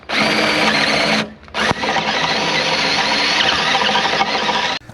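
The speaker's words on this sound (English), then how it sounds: "I'm going to countersink the holes here so the nut and the bolt and the washers and all that are countersunk into our post" A power drill countersinking bolt holes about an inch into a wooden gate post, whining loudly and steadily close by, with a brief stop and restart partway through and no talking.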